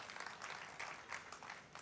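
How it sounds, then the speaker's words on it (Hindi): Audience applause for a visiting woman poet at an all-India Hindi kavi sammelan, a steady broadband clatter of many hands clapping throughout, fairly distant and uniform with no voices heard. "एक बार जोरदार ताली बजाकर उनका अभिवादन करें आप"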